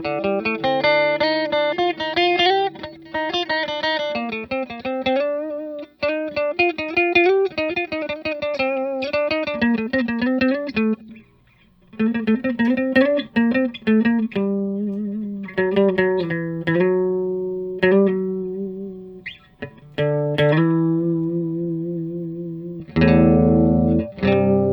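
Clean electric guitar through a Boss Super Chorus CH-1 pedal on the clean channel, with a shimmering, wavering chorus effect, playing a run of picked notes and chords close up, with brief pauses and a final louder strum.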